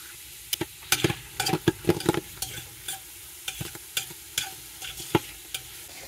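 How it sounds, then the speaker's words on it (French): Onions and mushrooms cooking gently in butter with a touch of honey: quiet sizzling under a run of crisp, irregular spatula taps and scrapes against the pan, close up and without speech. "mes oignons et mes champignons sont en train de revenir tout doucement"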